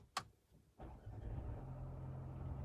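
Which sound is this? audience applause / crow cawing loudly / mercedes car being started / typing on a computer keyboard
mercedes car being started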